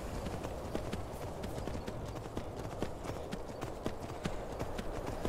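Horse hooves clip-clopping in an Elder Scrolls video game, a steady run of hoofbeats on the ground, fairly faint and continuous throughout.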